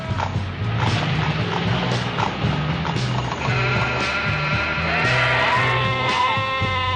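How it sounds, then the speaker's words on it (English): Sheep bleat repeatedly over a dense, continuous background of other noise, with drawn-out calls growing more prominent toward the end. "Over there is the sheep district."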